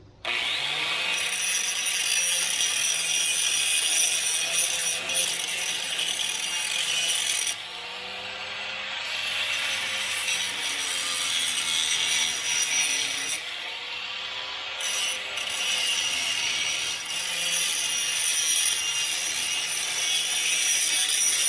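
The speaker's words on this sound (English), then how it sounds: "We're gonna get to grinding all this old weld off." An angle grinder grinding old weld off a utility trailer coupler: a loud, continuous, close grinding whine that holds for over twenty seconds, its pitch dipping and rising twice as the load changes.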